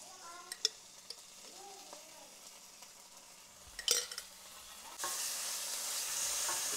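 Ginger garlic paste sautéing with onions in a pan for a black chicken curry, a quiet sizzle with a few soft clicks and one louder scrape of stirring, then the frying hiss rising noticeably and holding steady.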